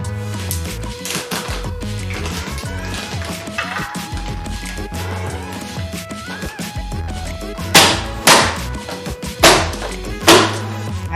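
Pecans are chopped with a knife on a board for a carrot cake muffin topping. A run of close, sharp knocks comes in quick bursts, and four louder whacks land near the end over quiet kitchen background.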